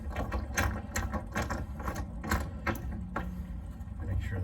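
Clamps being cinched down on an Undercover ArmorFlex tonneau cover on a 2020 Denali HD pickup give off close, irregular bursts of ratcheting clicks over a few seconds.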